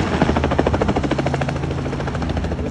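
A helicopter's rotor thumps in a rapid, steady chop, loud and close, with no voices, during bow hunting in Africa.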